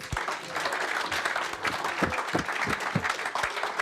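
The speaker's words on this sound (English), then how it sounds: "a round of applause, please, for Wayne himself" A seated audience claps for Wayne Scott at a TR Register gathering: steady, even applause at moderate distance with a few sharper claps and low thumps, continuous throughout.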